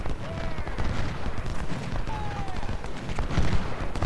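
Union infantry firing a rifle volley in Ultimate General: Civil War during the Battle of Chickamauga, a dense crackle of overlapping musket shots with rolling distant battle rumble throughout, no single clean report standing out.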